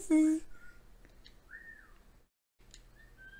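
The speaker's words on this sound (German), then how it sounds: "Und jetzt pfeifen wir uns den Chef da nochmal ran." A whistle used to summon a ship's captain in Assassin's Creed Black Flag: a short loud tonal burst near the start, followed by fainter game ambience with a rising-falling tone and brief gaps of silence.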